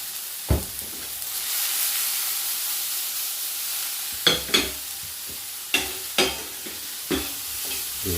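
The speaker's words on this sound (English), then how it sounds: "give it a bit of stir." Leftovers fry with a steady sizzle in a pan, joined by several sharp scraping stirs of a utensil that stand out over the hiss.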